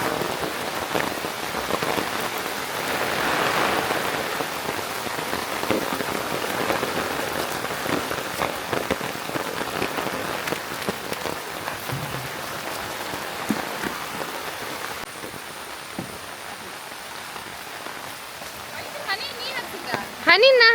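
Light rain falls in the Malnad countryside around a farm kennel, a steady, even patter of drops on surfaces that continues throughout with little variation.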